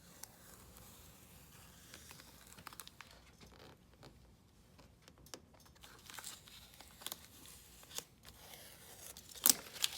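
Transfer paper peeled off a vinyl decal on a Challenger tail lamp: quiet crinkling, rustling and light tearing sounds, close and soft, with a few small ticks and a sharper crackle near the end.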